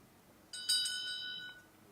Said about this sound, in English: we will have a bell being rung. There will be a first bell to begin.